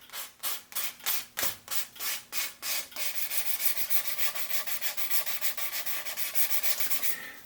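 Hand sanding with 600 grit sandpaper, easing the sharp edges of a metal part: steady rhythmic back-and-forth rasping strokes, slower and distinct at first, then quicker and continuous, close and alone with no talk.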